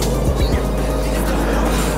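A Mini car drives around Lagos roundabouts, its engine and road noise forming a steady, close, continuous rumble from inside the cabin.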